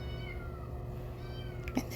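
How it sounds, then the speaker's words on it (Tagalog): Cats meowing somewhere in a home, faint and distant behind a steady background hum, with one brief louder cry near the end. "Ang ingay ng mga pusa namin anyways"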